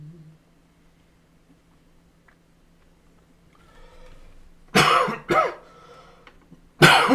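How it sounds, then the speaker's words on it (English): Two sharp bursts of coughing stand out after a quiet stretch with a low hum, followed by a third loud cough at the end, close and clear. "for your cough?"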